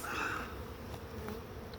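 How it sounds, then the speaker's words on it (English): Honey bees buzz densely on a hive frame during a late winter inspection, a close, continuous droning hum with no voices. "Oh, I see a lot of bees on that frame."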